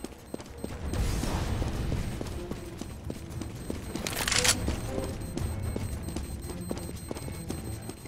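A molotov fire grenade is thrown in the video game CS:GO: a rushing, roaring whoosh swells briefly midway through, over steady clattering footsteps and scattered gunfire in the match.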